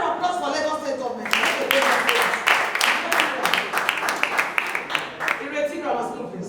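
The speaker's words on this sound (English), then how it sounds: "A round of applause for Lagos State government." Clapping from the audience at an annual interschool debate competition swells after a brief voice and then fills the hall in a dense, steady patter, with speech briefly surfacing near the end.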